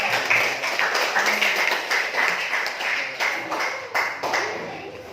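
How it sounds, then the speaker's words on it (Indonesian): A classroom group claps together in a lively burst of applause, dense and close, with some voices mixed in underneath. "Tepuk tangan untuk teman kita."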